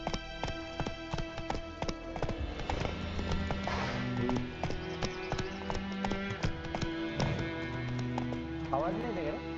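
Roach the horse gallops in The Witcher 3, a steady rhythmic run of hooves carrying on through the whole stretch beside game music and ambience, with a voice talking over it.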